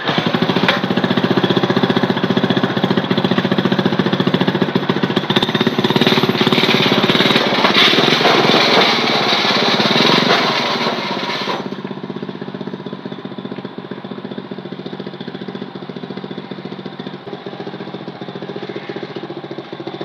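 The engine of a wheelie machine fitted with jackshaft gearing runs loud and close with a dense, rattling drone, then drops to a lower, steadier level about two-thirds of the way through.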